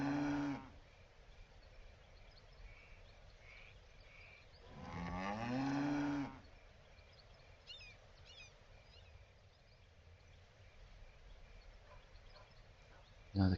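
Cattle at a cattle farm in the video game Patrician 3, with two long lowing moos, one at the start and another a few seconds later, over quiet ambient farm sounds and a faint clucking of fowl.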